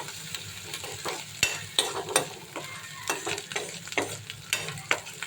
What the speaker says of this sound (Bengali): আমি আমার রান্না এই যে মশলাটা কষাচ্ছি